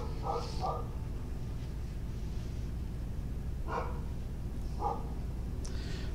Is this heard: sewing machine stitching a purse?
no